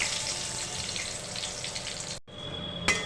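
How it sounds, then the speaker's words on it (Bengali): Panch phoron spices hit hot oil in a pan for a fish curry, giving a steady close crackling sizzle that briefly drops out and then resumes more faintly. "এবার তেলের মধ্যে দিয়ে দিল কিছুটা 5 ফোড়ন"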